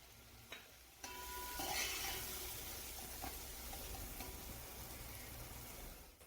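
Spices with turmeric, biryani masala and Malvani masala frying in oil for prawn pulao, a soft continuous sizzle that swells after a sharp knock and carries on with light stirring scrapes, close but faint, with no talking.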